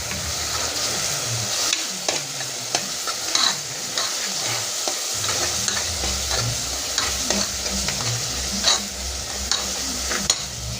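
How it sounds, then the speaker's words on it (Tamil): Ginger garlic paste sautéing with onions in a pan while cooking biryani, a loud continuous sizzle and fry with occasional stirring clicks and scrapes, no talk. "நம்ம வந்து இஞ்சி பூண்டு போட்டு நல்லா இஞ்சி பூண்டு பச்சை வாசனை போகிற வரைக்கும் நம்ம நல்லா வதக்கிக்கலாம்"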